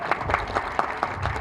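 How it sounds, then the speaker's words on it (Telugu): An audience at a movie audio launch breaks into brief applause, a burst of clapping with rhythmic peaks over crowd ambience. "ఒకసారి గట్టి కొట్టేయండి చప్పట్లు"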